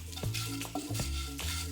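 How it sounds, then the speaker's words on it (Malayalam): Flattened rice (aval) roasting in a spoonful of ghee in a pan, with a steady crackling sizzle broken by repeated scraping strokes of a spoon as it is stirred. "ഇത് നല്ലപോലെ ഒന്ന് വറുത്തെടുക്കാം നമുക്ക്"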